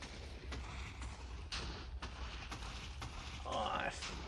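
Repeated explosions in the Minecraft video game, a series of sharp booms at roughly half-second intervals over a steady rumbling background, moderately loud, with a rising whoosh near the end.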